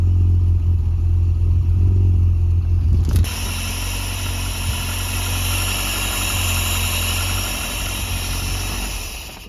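Rusty old barn-find Ford van engine running on choke, a steady loud idling rumble with a sudden shift in tone partway through, then it settles and fades slightly near the end.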